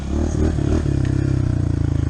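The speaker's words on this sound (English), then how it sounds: "unless I'm like revving the bike" A motorcycle engine revving close by, a loud pulsing roar that rises briefly then settles into a steady rhythmic idle, with no talk over it.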